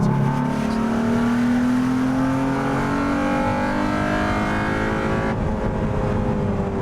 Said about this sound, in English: when you put your foot down in this thing, it makes one heck of a noise